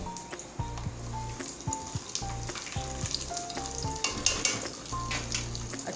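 Garlic frying in a pan over a low flame gives a steady close sizzle with bursts of crackle and occasional stirring scrapes, with no talk.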